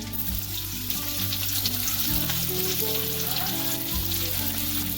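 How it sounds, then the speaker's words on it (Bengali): Garlic and onions sizzle in hot oil in a pan, a steady, loud frying hiss with crackling that runs throughout, alone with no talk. "এবার তেল গরম হয়ে গেছে, এর মধ্যে আমি রসুনগুলো দিয়ে দিলাম। এবার পেঁয়াজগুলোও দিয়ে দিচ্ছি।"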